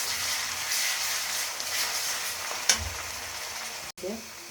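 Ginger garlic paste frying in a pan while lentil and bottle gourd curry is cooked, giving a steady close sizzle with a clink of a spoon midway and a brief knock near the end.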